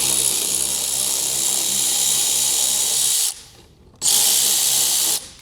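Power driver fitted with a Torx 40 bit backing out a front bumper screw on a Tesla Model Y Juniper: a loud, steady high whir for about three seconds, a short pause, then another burst.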